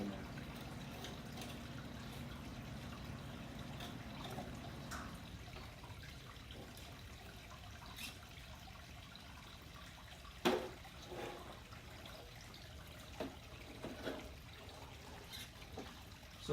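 A BRX01 RC crawler churns through water on an indoor crawler course, with steady trickling and splashing under a low motor rumble that eases off, then a few sharper splashes.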